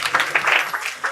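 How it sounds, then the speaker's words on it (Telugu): A crowd of college students at a Rakhi celebration clap together, a dense, fairly loud burst of applause with short rhythmic swells. "క్లాప్స్ ఒకసారి గట్టిగా"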